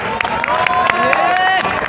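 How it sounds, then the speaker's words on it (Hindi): An audience applauds at a Jamia Millia Islamia Hindi department event, loud close clapping from a crowd mixed with cheering and a voice over the top, steady for the whole short stretch. "कृपया जोरदार तालियां बजाएं"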